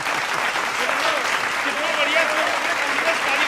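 An audience claps steadily through a brief, dense stretch of applause at an even, moderate loudness from start to finish.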